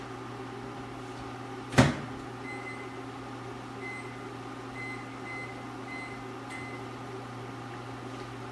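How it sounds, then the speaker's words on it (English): A microwave oven hums steadily with a low drone and a faint repeating beep; a single sharp clack of a door closing sounds early on. "I'll be right back and put this in the microwave."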